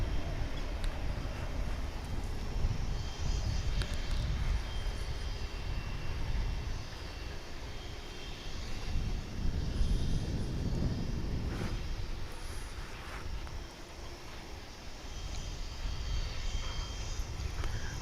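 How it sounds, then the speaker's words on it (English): Airliner arriving at DFW from Oklahoma City, passing to the north, a moderate, rumbling jet roar that rises and eases over the stretch, fairly distant, with no talking. "That flight again coming in from Oklahoma City, just to the north of us."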